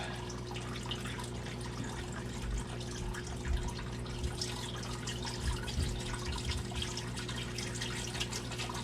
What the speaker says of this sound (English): I'm going to use distilled water to fill it back up.